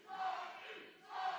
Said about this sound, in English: Listen to that crowd, Sean.